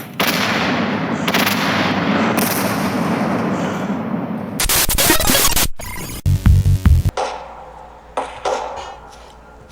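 Smart weapons fire in a first-person shooter video game: a dense rumble of sustained gunfire gives way to sharp, separate shots and short bursts, loud and close, with quieter pops trailing off toward the end.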